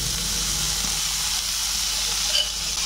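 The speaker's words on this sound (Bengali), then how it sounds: "একটা কড়া বসিয়ে দিলাম, শাকগুলো আমি ঢেলে দিলাম।" Chopped greens tipped into a hot wok with no added water, giving off a steady, close hiss of sizzling steam that holds evenly throughout with no talk.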